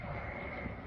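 An airplane flying overhead on approach to a nearby airport, a steady broad engine rumble and roar, distant and fairly faint, with no other sounds.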